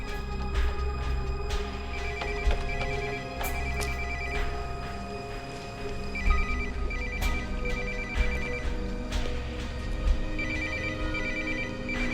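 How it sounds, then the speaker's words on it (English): A cell phone rings in a quiet room in a Canadian political thriller, its electronic ringtone repeating in regular bursts over a low background hum with no voices. "It's a cell phone."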